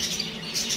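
Bird chicks at a breeder's setup give a brief burst of high, excited chirping calls, close and fairly faint, lasting under a second with no talking.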